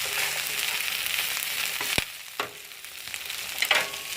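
Okra sizzles steadily in a hot frying pan, a constant close crackle broken by a few clanks and stirring scrapes.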